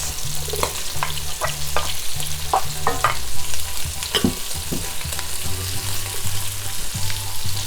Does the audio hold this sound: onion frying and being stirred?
yes